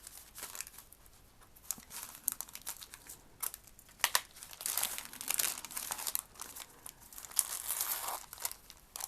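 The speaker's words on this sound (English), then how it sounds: "tear your tracing paper around where you had sewn it" Tracing paper that has been sewn onto lace in a journal is torn and crinkled near the stitching, making dry, papery rips and crackles in irregular bursts, close and quiet.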